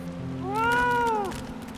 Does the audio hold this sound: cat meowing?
yes